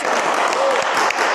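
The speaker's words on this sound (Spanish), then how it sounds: "Ven, un aplauso." Brief wash of audience applause, steady and fairly loud, with a voice briefly audible amid the clapping.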